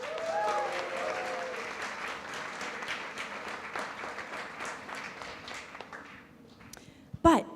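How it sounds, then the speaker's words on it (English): A hackathon conference audience gives a round of applause, a broad crowd clapping that starts strong, gradually thins and fades, with a voice and a sharp knock near the end. "Please give yourselves a round of applause."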